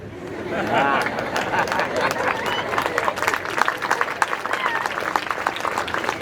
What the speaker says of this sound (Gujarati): આ જેટલા મિત્રોએ તાળી પાડી